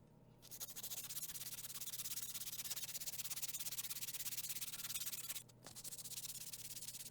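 A tiny hammer is hand-sanded with sandpaper in steady, continuous rubbing strokes that are close and fairly loud. The sanding pauses briefly near the end, then resumes.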